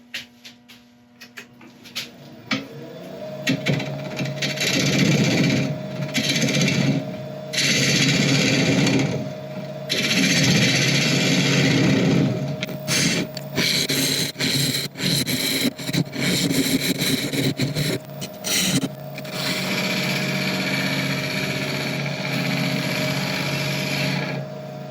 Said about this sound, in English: I'm going to put a recess in